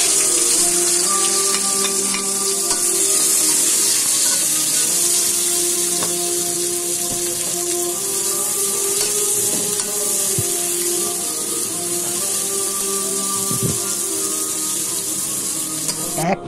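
Chopped onions, three of them, sizzle steadily in hot oil left from frying sea bream, with intermittent stirring scrapes and clinks of a utensil against the pan, close and continuous throughout.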